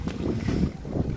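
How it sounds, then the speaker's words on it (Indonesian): A gentle breeze blows through a village in Ciamis as a soft, steady low rush of wind buffeting the microphone, lasting only a moment. "Angin sepoi-sepoi."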